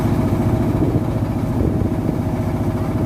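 A steady, loud engine drones continuously at a constant pitch, the low throb of a motorboat motor running without pause, on a passenger boat of about ten people near mangroves on Surabaya's east coast.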